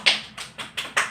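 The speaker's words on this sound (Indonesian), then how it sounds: "sekarang kita beri tepuk tangan untuk kelompok 3" A few sparse hand claps for a student group in a classroom teaching session, five distinct sharp claps spaced evenly, fairly close and moderately loud, with no voices.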